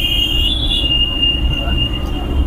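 A train at Howrah railway station rumbles steadily with a loud low roar. A thin high metallic squeal holds throughout, brighter near the start, with faint voices in the background.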